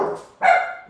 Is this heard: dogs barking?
yes